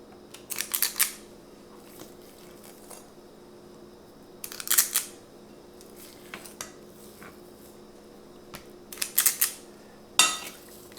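A cookie scoop works through keto butterscotch cookie dough in four separated bursts of sharp metallic clicks and scrapes, each lasting about a second, with a quiet kitchen hum between them.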